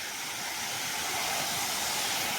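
Running water from a freshwater stream flows in a steady, close rushing wash with no talk over it.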